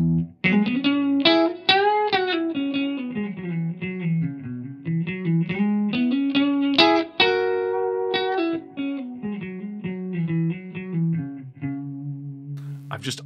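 Electric guitar played through its neck and middle pickups together, Strat-style position two, on a Kauer Razer Crest Gripen with Lollar La Prima pickups; a clean, bright run of single notes and chords played continuously, close and steady.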